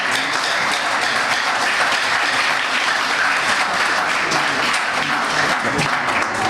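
Applause from an audience at a youth employment event fills the space, a thick, continuous wash of clapping that stays loud and steady for several seconds without speech.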